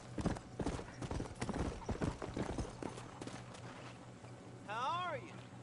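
Horse hooves clip-clopping at a gallop in the video game Red Dead Redemption, a rapid rhythmic run of close, loud hoofbeats through the first half, with a voice briefly heard over the game sounds.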